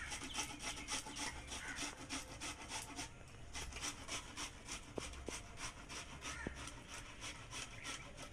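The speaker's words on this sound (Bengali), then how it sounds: "পেঁয়াজটা আমি ভালো করে ঘষে নেব।" An onion rubbed back and forth across a kitchen grater, a steady rhythmic rasping scrape repeating quickly and evenly, close and fairly loud, with no talking.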